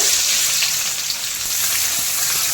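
Onions frying in oil over medium heat make a dense, continuous, close sizzle with faint stirring movement underneath, and nobody speaks.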